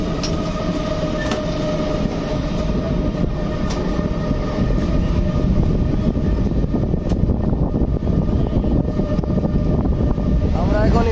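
Kanchenjunga Express halted at Murarai Junction, a loud continuous rumble with rail clatter and faint wheel squeal, steady throughout with occasional sharp clanks; some talk in the background.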